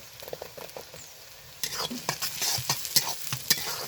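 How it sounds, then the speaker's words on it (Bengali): Chopped onion and whole peeled garlic cloves fry in a pan. A soft sizzle with light taps at first, then a louder burst of hissing and spatula scrapes as the stirring picks up, heard up close. "রসুনটাকে হালকা করে কষে নিব রসুন পেঁয়াজ একসঙ্গে ভেজে নিয়েছি"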